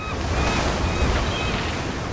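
Rolling ocean waves and surf from a Weta FX water-effects shot in Kingdom of the Planet of the Apes, a steady broadband wash with a low rumble of breaking water and some wind, continuous and fairly loud throughout.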